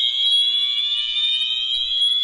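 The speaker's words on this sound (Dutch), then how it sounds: "Om zeven over half tien gaat het brandalarm af." A fire alarm sounds in a mental health care facility, a loud, steady electronic tone that holds unbroken for the whole stretch with no talk over it.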